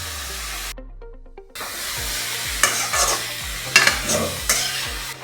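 Egg roll filling frying and being stirred in a hot pan, a steady sizzle broken by repeated scraping strokes of a spoon against the pan, close and clear with no voices.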